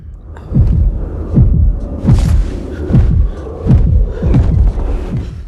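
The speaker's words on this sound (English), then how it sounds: "that heartbeat sound" Loud heartbeat sound effect from a horror series, a steady run of deep paired thumps repeating about every 0.8 seconds under a low droning hum.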